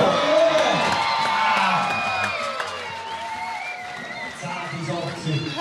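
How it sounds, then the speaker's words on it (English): Crowd at a STIHL Timbersports European Nations Pro Cup event in Switzerland, loud sustained cheering, whistles and shouting that stays strong throughout, with a commentator talking over the noise. "What a crowd though. What a support."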